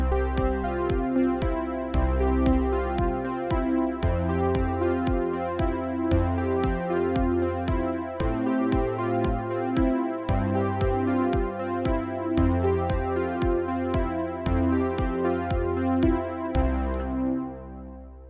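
Synthwave riff at 116 BPM, a steady pulsing pattern of bright synth chords over a deep bass line, playing alone throughout and fading at the end.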